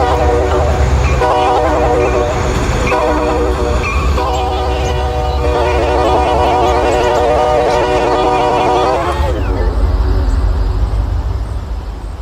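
A Norfolk Southern freight train led by SD70-type locomotives rumbles past loudly with a sustained multi-tone horn blast and steady heavy rolling noise underneath.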